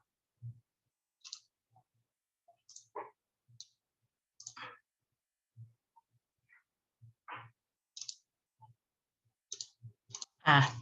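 Sharp, isolated mouse clicks occur irregularly, quiet and close, separated by silence and a few soft low thumps.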